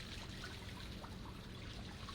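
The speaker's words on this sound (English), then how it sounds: "And the water feature?" Soft, steady trickle of an indoor water feature in a lavish apartment in Mass Effect, running continuously at low level with faint splashing and no talk over it.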